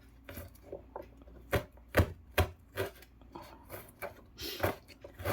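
A knife chops garlic on a board, making a handful of distinct, irregular close thuds with short gaps in between.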